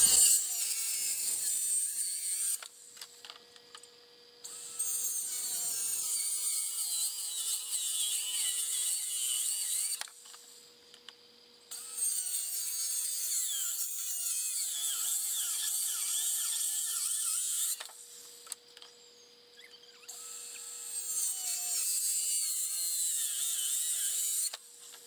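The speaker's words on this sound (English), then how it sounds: "we'll be making the cuts with our cordless skill saw" A cordless circular saw cuts wooden boards for a simple headboard: several long, high whining cuts run one after another, close and steady, separated by short quieter pauses as the blade spins down.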